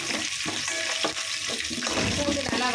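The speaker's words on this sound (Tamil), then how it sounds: "பூண்டு நல்லா வதக்கிடலாம்." Garlic and chana dal sizzle in a pan of oil while being stirred for lemon rice, a moderate crackle broken by soft spoon scrapes.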